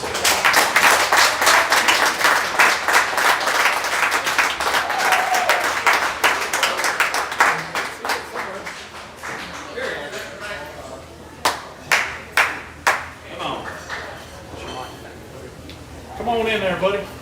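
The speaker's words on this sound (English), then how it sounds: "I want everybody to give a big round of applause to this week's player of the game" Lively audience applause for a high school football player of the game on a coach's show, many hands clapping loudly and densely at first, then thinning to a few scattered claps, with voices speaking toward the end.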